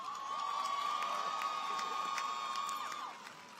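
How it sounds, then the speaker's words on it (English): Graduating class at a spring 2017 NCCU undergraduate commencement cheers loudly, with a crowd roar, rising whoops and a sustained whistle-like tone running through the whole stretch before it eases off at the end. "Give yourself a round of applause."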